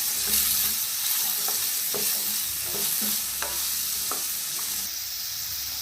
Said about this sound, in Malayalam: അര ടീസ്പൂൺ അളവിൽ ഗരം മസാലപ്പൊടിയും കൂടെ ചേർത്തിട്ടാണ് ഇതൊന്ന് വഴറ്റി കൊടുക്കുന്നത്